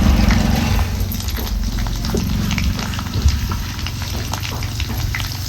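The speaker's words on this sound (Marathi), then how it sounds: "खोबरं लसूण हे चांगलं तेलात परतून घ्यायचं आपण" Ground coconut and garlic fry in hot oil with cumin and curry leaves for a black bean aamti, making a loud, dense, rain-like crackle that runs steadily throughout.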